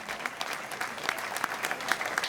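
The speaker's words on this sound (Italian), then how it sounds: "Facciamo un applauso a Giovanni che è qui davanti." Audience applause at an outdoor evening concert in Piazza Manzoni, Jesolo: a steady wash of many hands clapping, moderately distant, with a few sharper claps standing out and no talk over it.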